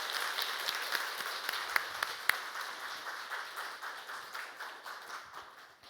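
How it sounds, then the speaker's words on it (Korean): Church congregation applauding after a Sunday service, steady broadband clapping with a few sharper individual claps standing out, fairly distant and gradually fading toward the end. "인사하고 들어갈 때 크게 박수해 주시기 바랍니다"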